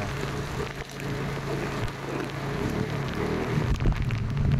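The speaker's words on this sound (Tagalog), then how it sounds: "lakas ng ulan" Heavy rain on the first day of school, a dense, loud, continuous roar of downpour hitting surfaces, steady and unbroken with no voices.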